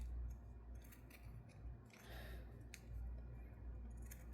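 Scissors trim paper napkins in a quiet room, giving a few soft, close snips against a faint background hum.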